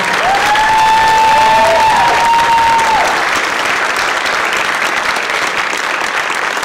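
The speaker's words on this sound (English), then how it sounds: "give them one more round of applause." Loud, sustained audience applause fills an auditorium after a high school chorus spring concert, dense clapping with some whistles and cheers early on, then holding steady throughout.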